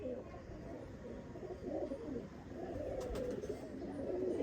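Kamangar pigeons from a Sialkoti red-eyed bloodline give soft, low, rolling coos that repeat close by over a continuous murmur of cooing.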